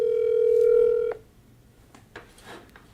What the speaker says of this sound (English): I'm going to call him right now and put him on speaker.